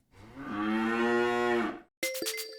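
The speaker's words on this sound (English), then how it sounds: "Here are 6 cows mooing instead." Cows mooing, one long drawn-out low moo that swells and fades, followed after a brief silence by another animal's call with sharp clanking, likely cowbells, up close.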